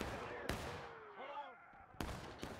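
Musket fire in the War of Rights video game, a Civil War-era battle at a log cabin: three sharp, echoing shots crack out over a low rumble of distant battle noise, two of them close together near the end.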